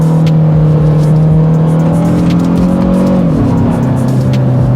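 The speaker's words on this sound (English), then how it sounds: "This engine motivates the car very quickly." A 2022 Kia Stinger GT-Line engine revs loudly and climbs in pitch, then drops briefly as it shifts gear and keeps pulling, close and continuous.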